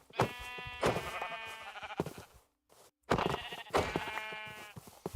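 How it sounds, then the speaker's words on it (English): Sheep in a video game bleat in two loud, close, wavering calls split by a short silence. "There's just enough sheep here to make a sleeping bag."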